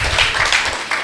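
An audience at a Brahma Kumaris murli gathering claps in a brief, close burst of scattered hand claps, loud and dense for about a second.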